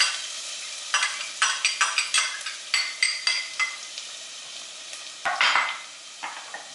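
Chopped yellow onion sautéing in olive oil in a soup pot, a steady sizzle broken by repeated close scraping stir strokes, no voices.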